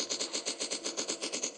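Rapid automatic gunfire in a dinosaur survival video game, about ten evenly spaced bursts in a quick steady rhythm, crisp and close with no voices.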